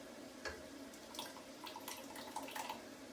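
Crushed tomatoes from a 14-ounce can pour out for a Greek-style baked fish in onion tomato sauce, giving a soft, wet, gurgling splatter with a few brief plops, fairly faint against steady room noise.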